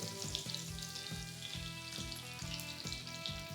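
A 300-gram crumbed schnitzel steak fries in a hot pan, giving a steady close sizzle and crackle with a faint rhythmic clatter running underneath throughout.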